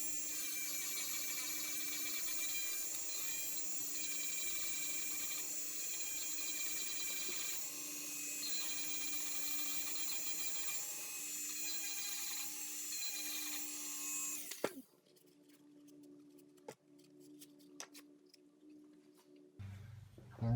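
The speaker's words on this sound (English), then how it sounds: "we're just using a very light sandpaper on that Dremel" A Dremel rotary tool fitted with light sandpaper cleans the metal bore of a classic car brake cylinder, giving a steady high-pitched whine that runs close and loud for about fifteen seconds, then stops and leaves a quiet workshop with small clicks.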